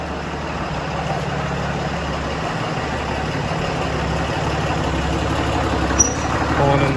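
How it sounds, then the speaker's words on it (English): Cummins diesel truck rolling in, a steady low heavy idle rumble that stays constant and fairly close throughout. "Pulling in the Cummins."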